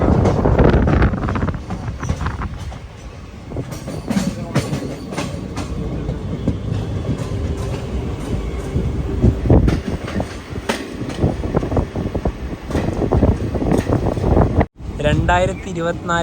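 A train thunders past close by with loud rumbling and rhythmic clickety-clack of wheels, wind buffeting the microphone, and a voice talking over it.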